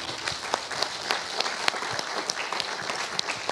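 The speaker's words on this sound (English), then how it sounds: "Let's give Dai a round of applause." Scattered applause from a small church congregation at a Christmas service, a thin but continuous patter of hand claps with a few sharper individual claps standing out over a few seconds.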